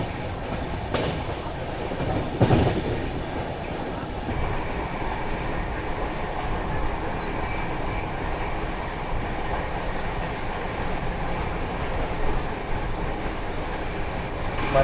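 Passenger train gathering speed, heard from onboard: a loud continuous rumble with clickety-clack wheel beats and occasional faint squeals, steady throughout.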